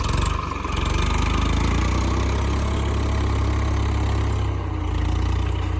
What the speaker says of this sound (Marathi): 2500 कितीतरी सीसीचा ट्रॅक्टर आहे.